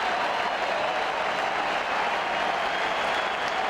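A huge baseball crowd at Yankee Stadium roars and applauds steadily as fans rise to their feet during a 2000 World Series game against the Mets, a dense unbroken wall of cheering and clapping.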